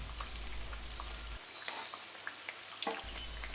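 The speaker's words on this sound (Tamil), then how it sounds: "ஸ்லோ ஹீட்லேயே வச்சு மெதுவாக பொரித்து எடுத்துக்கோங்க" Ragi vada frying slowly in oil on low heat: a steady, soft bubbling sizzle with a few light clicks and pops, close up and on its own.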